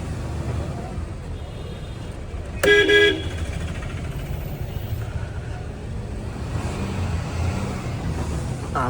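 A single short vehicle horn blast rises over steady road traffic noise on a busy town road with bus traffic, with faint voices in the background.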